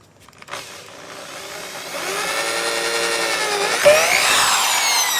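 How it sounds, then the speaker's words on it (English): A power drill bores holes for lag bolts during a Veranda vinyl railing installation, the motor whine climbing steadily in pitch and loudness, with a brief knock near the end as the bit breaks through. "drill my holes out for my lag bolts."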